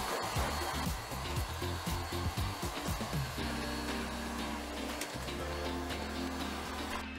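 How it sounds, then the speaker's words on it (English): A heat gun blows with a steady, close whooshing hum while shrinking PVC shrink tube over an e-bike battery pack, accompanied by some handling clatter early on and no talk. "Heat it with a heat gun to shrink it."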